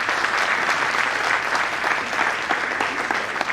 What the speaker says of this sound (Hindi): बहुत जोरदार कंपनी की ताली हो जाए।